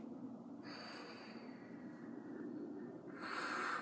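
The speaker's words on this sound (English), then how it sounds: "Much better exhale that time" A long, airy breath pushed out after a hit on an e-cigarette: one steady exhale lasting several seconds, close to the mic, swelling into a stronger hiss near the end, with no talking.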